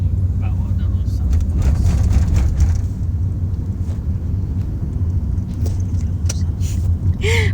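Steady low rumble inside a moving car during a live stream, a continuous near drone with scattered clicks and small knocks over the whole stretch.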